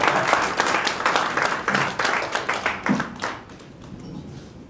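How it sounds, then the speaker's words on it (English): An audience at a business mediation event applauds two lawyers with a burst of close, loud clapping that thins into a few scattered claps and fades out after about three seconds. "Please give them a big round of applause."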